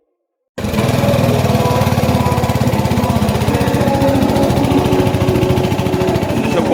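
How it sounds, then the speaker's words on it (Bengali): A liquid-cooled CFMOTO 250 motorcycle engine runs steadily after a brief silent start, a loud, close, rapid pulsing drone that holds constant throughout. "250-এর এটা ছিল ইঞ্জিনের আওয়াজ"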